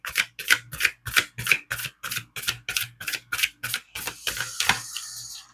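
Cards being drawn and snapped down from a deck during a reading, a quick run of about a dozen crisp, evenly spaced flicks close up, ending in a brief shuffle-like rustle.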